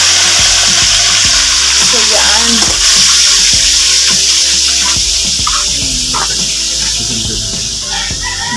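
Food frying in a pan, a loud continuous sizzle and crackle with occasional clatter of turning the pieces, heard close with no talking.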